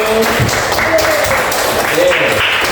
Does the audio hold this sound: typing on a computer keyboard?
no